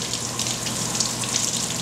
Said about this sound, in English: Nice cool running water.